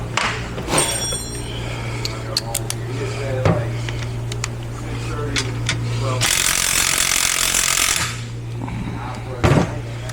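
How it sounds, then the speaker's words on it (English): Ratchet loosening 15mm bolts on the extension housing of an 8L90 transmission during teardown, giving quick clicking bursts over a steady mechanical hum, with a louder burst of air hiss midway, close up in a workshop. "We're going to take and remove the 15mm bolts around the extension housing and take that off."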